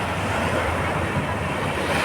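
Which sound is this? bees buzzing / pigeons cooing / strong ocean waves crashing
strong ocean waves crashing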